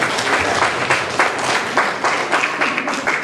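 A seated audience at a talk gives a round of applause, with dense, continuous clapping at close range that holds steady through the whole stretch.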